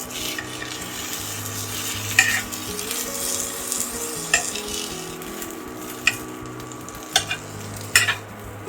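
Pithe, a Bengali rice-flour sweet, lightly frying in a pan with a soft steady sizzle, punctuated every second or so by crisp metallic taps and scrapes of a spatula against the pan.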